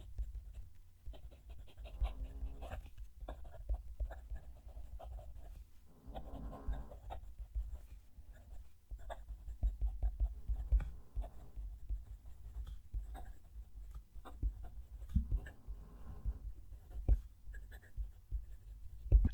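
Tibaldi Bononia fountain pen with a broad nib scratching across paper in short strokes and pauses, faint and close, with a low background hum beneath.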